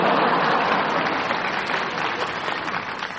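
A large audience at an Academy Awards ceremony applauds steadily, a dense, loud wash of clapping that fades only slightly over a few seconds.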